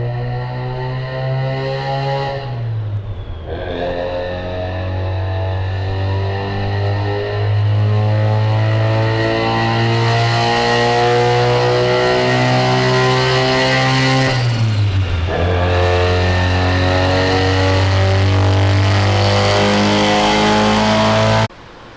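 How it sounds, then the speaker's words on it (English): A Mazda FC RX7 engine, rotary-powered, revs loud and steady on a dyno. Its tone climbs through two long pulls, each with a sharp drop near 3 and 15 seconds before building again, and the run cuts off abruptly at the end. "Oh, I hear the RPMs going up."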